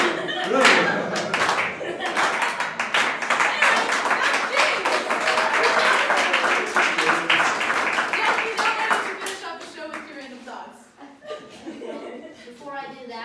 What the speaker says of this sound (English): can I just get everybody to start clapping their hands?